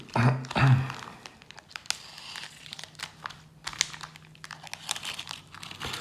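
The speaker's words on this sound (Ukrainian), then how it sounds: "Так, відриваємо, відкриваємо. Це дійсно двохшаровий картон." Two-layer cardboard coin packaging being torn open by hand, with a loud close crinkling rip at the start followed by scattered smaller crackles, tears and rustles of card.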